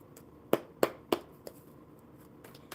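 Playing cards are shuffled at a live-stream card table, giving three sharp riffle snaps in quick succession followed by fainter taps, close and alone with no talk.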